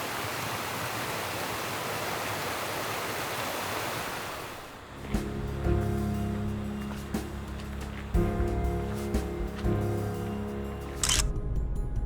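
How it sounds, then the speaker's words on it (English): Steady rushing water fills the first few seconds, then gives way to a lower, rumbling flow with tonal hum and scattered clicks throughout, in a natural setting on the island of Senja, Norway. "the flowing water is relaxing in otherwise very peaceful natural setting"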